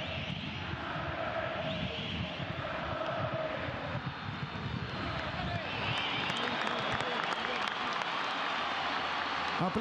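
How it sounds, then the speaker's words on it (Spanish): Stadium crowd applauding the Colón (Sabalero) team after a 1-0 win over River Plate in an Argentine league match, a broad, steady roar of clapping and cheering lasting throughout, with a commentator talking over it. "Aplausos y más aplausos para el conjunto sabalero."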